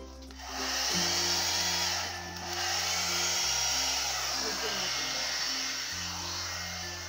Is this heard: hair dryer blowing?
yes